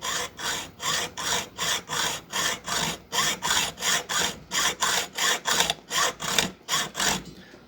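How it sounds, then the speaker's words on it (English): A hacksaw cuts a slit down the middle of a metal bolt, making steady rhythmic rasping strokes, about three each second, loud and close with brief gaps between strokes and no talk. "I'm going to take this hacksaw and cut the bolt part of it."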